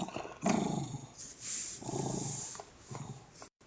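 A dog growls low and rumbling at close range, in a few drawn-out bursts, with whimpering tones mixed in.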